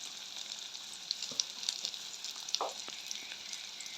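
Mustard and fenugreek seeds tempering in hot oil for a Jaffna-style prawn curry, giving a steady faint sizzle with a few light pops and a short burst of louder crackle near the end.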